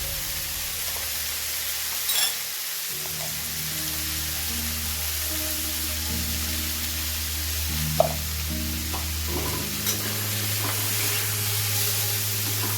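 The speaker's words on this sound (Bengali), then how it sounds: "এবারে সবগুলোকে একটু ভালো করে ভেজে নেব একসাথে" Mutton pieces with a little salt and turmeric fry in a pan with a steady, close hiss, broken by occasional scrapes and knocks as a spatula stirs them.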